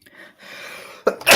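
A single sharp sneeze bursts out after a brief inhale, loud and close, during a livestream of a Wimbledon tennis match.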